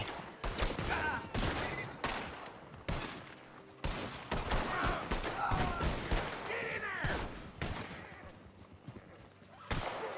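Video game gunfire, with bursts of sharp close shots and rapid volleys crackling through the scene, some loud and some more distant, and a voice talking in places.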